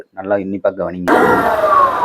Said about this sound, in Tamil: Yamaha Razorல கிளட்ச் சவுண்ட் வந்து வருது